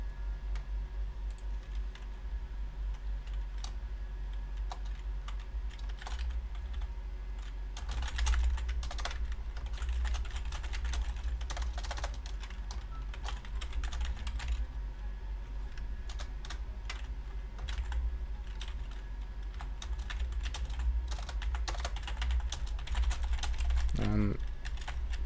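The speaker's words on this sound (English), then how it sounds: "Typing." Keys clatter in bursts of typing on a computer keyboard during a live stream, fairly close and steady, with faint room noise and a short rising tone near the end.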